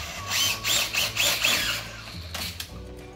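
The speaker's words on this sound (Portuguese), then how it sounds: "Vai colocar um parafuso em cima." A screw is driven into a metal drywall U-channel profile in several short whirring bursts of a powered driver, fairly quiet and close, tapering into a faint hum.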